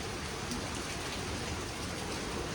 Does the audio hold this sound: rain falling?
yes